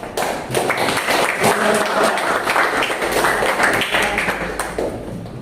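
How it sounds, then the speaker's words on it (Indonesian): A classroom of students clapping during an Indonesian social studies lesson, brisk uneven claps with some taps and thuds, fairly close and lasting a few seconds. "Oke, tepuk tangan untuk"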